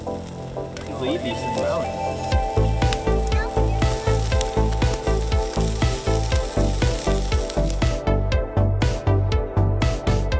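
Sous vide meat sizzles and crackles in a hot pan at a pop-up camper campsite, a steady loud fry with rhythmic pops and scraping as the pieces are moved, while someone talks over it.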